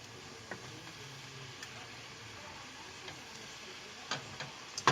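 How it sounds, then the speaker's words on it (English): Roast pork stirred into a hot pan gives a steady, fairly quiet sizzle, broken by occasional sharp scrapes and clicks of a utensil that come closer together toward the end; no voices. "mix the roast pork in, stir that around a little bit"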